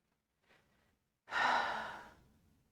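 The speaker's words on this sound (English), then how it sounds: "Find a couple deep breaths." Deep breathing during a yoga session: a soft short inhale, then a long, loud, slow exhale that gradually trails off, close and alone without talk.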